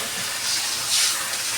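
Water poured into a pan of hot fried spice masala bursts into a loud, steady sizzling hiss, close and unbroken for the whole moment, with no voices.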